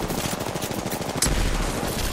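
Gunfire in the video game Apex Legends, a dense rattle of rapid shots under a steady game backdrop, with a sharper crack near the midpoint and a heavier low thump after it.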